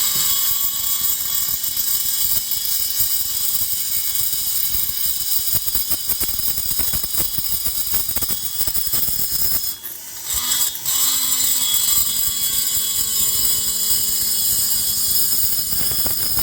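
A double-cut carbide burr on a rotary tool grinds into an aluminum cylinder port, a steady high-pitched buzzing whine with a chattering grainy edge, dropping out briefly midway before resuming at full strength.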